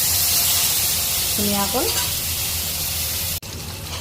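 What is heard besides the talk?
frying eel fish in hot oil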